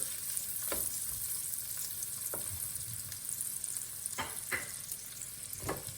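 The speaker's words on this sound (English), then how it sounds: "go ahead and add your sun-dried tomatoes. Give them a nice stir." Onion and sun-dried tomatoes fry in a pan with a soft, steady sizzle, broken by several close scrapes of a spoon stirring them around.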